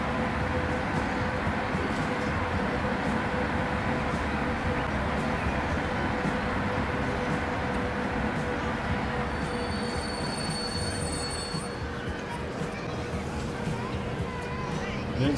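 Trains running in the video game Transport Fever 2, a steady loud rumble of rail wheels with squealing and high metallic whines toward the end, continuous throughout with a faint murmur of talk beneath.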